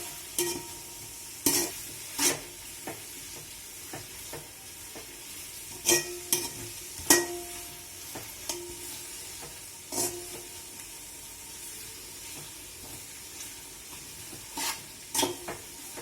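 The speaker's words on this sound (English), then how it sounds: "Fry until the onions turn into brown color." Onions sizzle steadily frying in a pan while a spoon stirs and scrapes now and then, with sharp clicks of utensils against metal.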